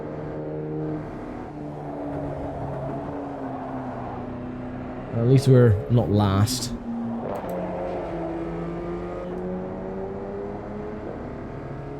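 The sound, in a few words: race car engines in video game AMS 2, VW Polo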